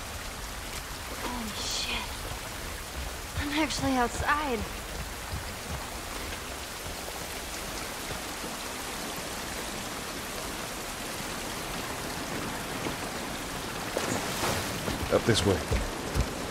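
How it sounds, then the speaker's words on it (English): Steady rain falling in The Last of Us Part 1, a constant broadband wash of drops beneath brief voices, with a few louder splashy moments near the start and end. "It's raining."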